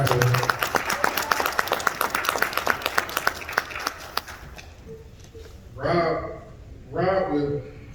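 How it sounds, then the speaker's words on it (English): A church audience breaks into dense, steady hand clapping that lasts several seconds and then fades out. Two short bursts of speech follow. "yeah, clap for her."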